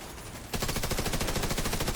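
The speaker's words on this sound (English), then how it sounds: "I'm like, who's shooting behind me?" Rapid automatic gunfire in a video game, a loud, dense stream of shots that bursts in after a brief quieter moment and keeps hammering without a break.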